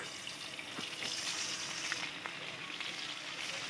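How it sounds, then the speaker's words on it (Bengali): Fish pieces laid into hot oil in a wok on a clay stove set off a steady, crackling sizzle, fairly soft, with small pops scattered through it and no voices. "একটা একটা করে এবার মাছগুলো তেলের ওপর ছেড়ে দিলাম।"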